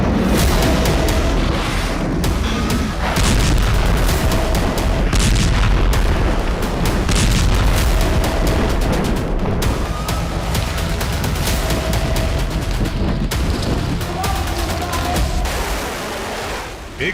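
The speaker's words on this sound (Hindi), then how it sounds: "एक बार फिर लाल सागर का इलाका मिसाइलों के हमलों से दहका।" Missile attack explosions in the Red Sea, a loud dense barrage of booms and rumbling blasts running continuously with sharp bursts throughout, with some voices mixed in.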